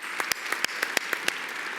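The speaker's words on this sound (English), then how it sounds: "Yes, that deserves a round of applause." A round of applause at a philanthropy luncheon, a brief, moderately faint burst of scattered clapping from a crowd, individual claps audible in an irregular patter.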